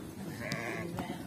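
Arashan sheep bleat on a large breeding farm, one or two short nasal calls rising over a low murmur of background noise close by.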